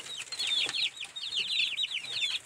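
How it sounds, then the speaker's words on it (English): Chicks cheeping and clucking in quick, high chirps, several birds overlapping in a busy, continuous chatter close by. "And here we go, cute baby chickens."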